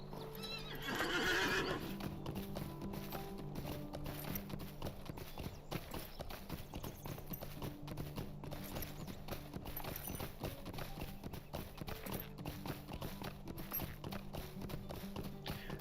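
Steady hoof clip-clop of a horse, with a brief whinny near the start, over continuous game music throughout, in the video game The Lord of the Rings Online.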